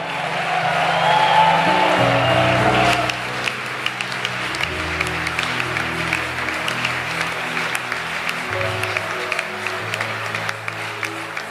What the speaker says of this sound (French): acclamons pour ses frères, pour ses sœurs